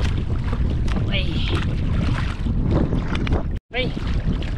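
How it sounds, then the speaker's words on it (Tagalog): Strong wind buffets the microphone on a small boat out on the water while fishing, a constant low roaring rumble with a brief dropout near the end. "Lumalakas na yung hangin."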